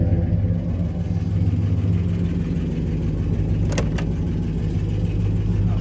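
A 1965 Plymouth Belvedere II engine idles steadily and loudly throughout, a low continuous rumble with a couple of brief sharp clicks near the end.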